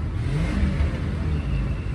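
The 4.6 engine of a 1997 Ford Crown Victoria with an overheating problem is revved, giving a loud, steady, throaty engine roar that holds for the whole stretch with no talking.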